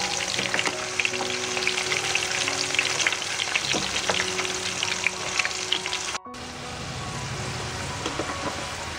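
Chana dal fries in hot oil in a pan with a loud, dense, continuous sizzle and crackle, briefly cut off before resuming more softly.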